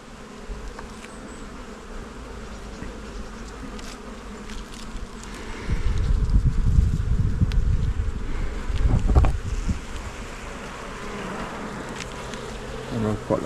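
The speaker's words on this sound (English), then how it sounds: "There are quite a lot of bees there" Honeybees buzz steadily around an opened hive during an inspection, a close, continuous drone that swells louder midway through, with light wind noise on the microphone.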